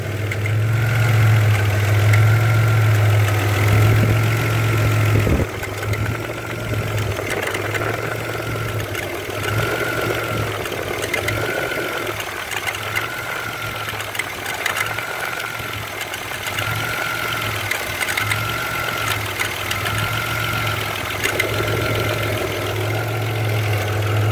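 A car engine idles during a base timing check set at 12 degrees, giving a loud, steady low rumble with a regular lobing pulse that settles as the idle evens out, with no talking.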